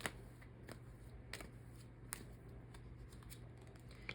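Tarot cards being shuffled and drawn: faint, soft riffling and light card clicks in a quiet room, irregular and close.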